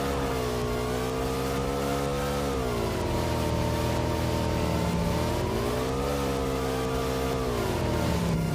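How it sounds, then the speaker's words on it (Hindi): Vehicle engine in the mobile battle royale game PUBG Mobile, droning steadily and loudly with rising and falling pitch as it accelerates away, no voice over it. "चलो गाइस गाड़ी लेकर मैं निकल जाता हूँ रश करने के लिए"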